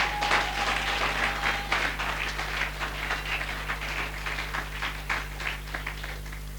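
A church congregation applauds during a Sunday teaching service, a dense, even patter of many hands clapping continuously over a constant low electrical hum.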